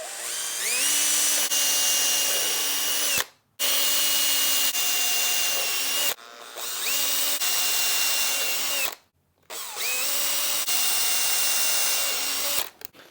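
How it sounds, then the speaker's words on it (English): A power drill whines in long, steady bursts, four runs separated by brief pauses as screws are driven in. "So let's go ahead and drill it."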